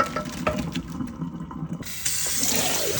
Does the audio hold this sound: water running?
yes